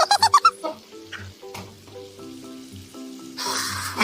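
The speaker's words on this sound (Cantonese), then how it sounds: "輕輕加翻少少油，半煎炸咁個豆腐先至靚仔嘅" Tofu half-pan-fries steadily in a little hot oil in a wok, punctuated by a few light clinks and scrapes, with a louder burst of crackling at the end.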